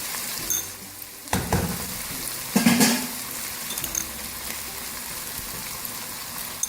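Soaked mash dal lentils frying in a pan for achari mash dal, with steady soft sizzling throughout and a couple of brief louder stirring bursts against the pan, close by with no talking.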